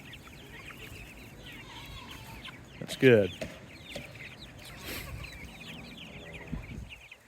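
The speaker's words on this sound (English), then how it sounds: "The meat birds are out here for good until processing day." Meat chickens clucking outdoors, with scattered soft clucks and one louder burst of squawking near the middle, while a person briefly speaks.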